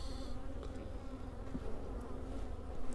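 Honeybees buzz in an opened winter hive of six frames, a dense, continuous low hum holding steady throughout at moderate loudness with no voices over it.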